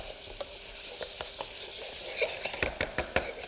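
Vegetables sweat in a hot pan beside tamarind paste, giving a soft continuous sizzle with occasional light taps and scrapes of a utensil, close and moderately quiet.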